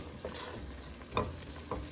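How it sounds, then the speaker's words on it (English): Turmeric fries with softened tomatoes in a pan, a soft steady sizzle broken by a few scraping stirs of a utensil, close and fairly quiet, no voices. "now stir the turmeric and let it fry for another couple of minutes"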